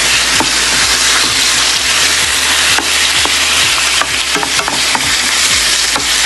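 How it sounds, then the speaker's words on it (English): Chuck beef sizzling in rendered tallow, a loud dense crackle and spatter close up with scattered pops and occasional scraping stirs, continuous for several seconds with no talking. "Look, this one is already frying, very nice."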